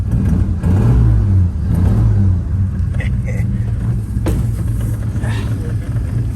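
A 1951 Studebaker with a badly slipping clutch idles and revs steadily in neutral, a loud, close rumble running throughout with a brief sharp knock midway.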